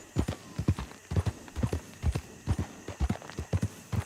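Steady clip-clop of horse hooves in Red Dead Redemption 2, a quick rhythmic trot of paired beats, close and clear with no talking.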